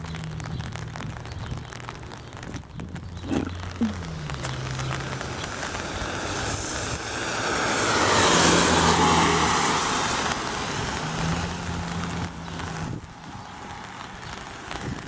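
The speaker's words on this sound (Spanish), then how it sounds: "Ha llovido todo el día y toda la noche. Mucha lluvia." Heavy rain after a full day and night of downpour, a steady broadband hiss with a swelling, louder wash in the middle, plus low vehicle rumble passing on a wet street.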